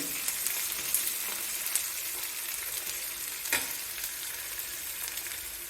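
Raw plantain pieces fry in a pan with onion, giving a steady bright sizzle and crackle across the whole stretch, with a few sharper pops and spatters along the way and no talk.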